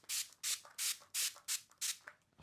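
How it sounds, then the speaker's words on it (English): Six quick spritzes of toner from a pump spray bottle onto a face, each a short airy hiss, evenly spaced and close by. "I'm just going to spritz it on my face."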